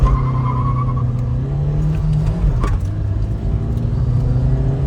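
Diesel Hyundai i20 and Suzuki Dzire cars accelerating side by side in a drag race, a steady loud engine drone with a brief sharper burst partway through, heard from close by.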